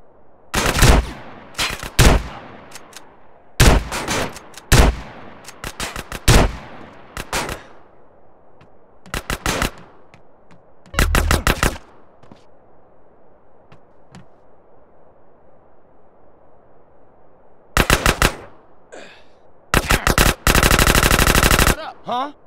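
Gunfire in the video game GTA San Andreas: several loud bursts of automatic fire separated by pauses, with a longer sustained burst near the end and no talking.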